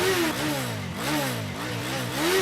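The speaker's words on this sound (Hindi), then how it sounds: "बाइक पे किक मार।" A motorcycle engine revs loudly and close in uneven surges, rising and falling for a couple of seconds. No distinct kick-start is audible.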